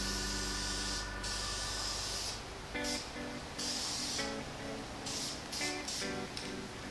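An aerosol can sprays red paint onto interior trim pieces, with long loud hissing bursts broken by short pauses and faint clicks and rattles between them.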